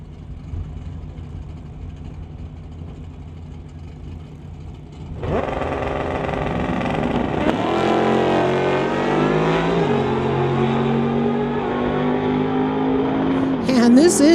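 Drag race vehicles in the West Coast Outlaw Street class, including a 2017 GSX-R, launching down the strip: a low idle gives way to a loud, rising engine roar with climbing revs, while a commentator talks over it.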